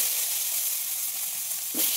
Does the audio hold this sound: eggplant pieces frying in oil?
yes